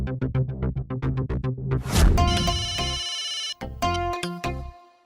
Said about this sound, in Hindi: बावरी का फोन लगाओ। हाँ। और फोन स्पीकर पे रखना।